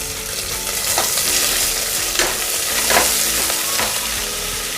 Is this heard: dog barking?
no